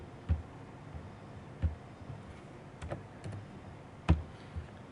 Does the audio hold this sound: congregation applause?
no